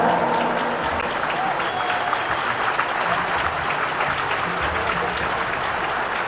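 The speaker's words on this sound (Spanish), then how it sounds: "Un aplauso para Duarte." Crowd applause for a player at a charity basketball match, a thick, sustained roar of clapping from many people in an indoor court, even and moderately loud throughout.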